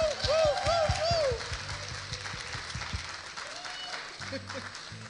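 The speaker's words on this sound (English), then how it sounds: "Come on, let's clap." A church congregation at a Sunday service in London claps and cheers for a couple celebrating their anniversary. The clapping is loud and dense, with cheering voices over it early on, then it fades to a softer patter under background voices.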